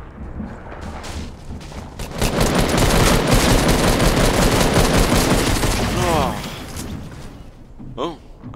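Rapid automatic gunfire in the Fortnite video game, a dense sustained burst of shots dominating the middle seconds, with quieter game noise before and after and brief vocal sounds near the end.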